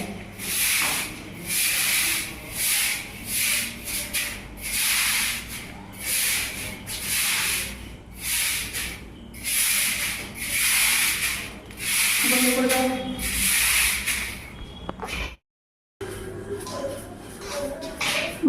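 Broom sweeping a floor in a home, a series of rhythmic, close, scratchy strokes repeating steadily with brief pauses, followed by a short gap and further sweeping.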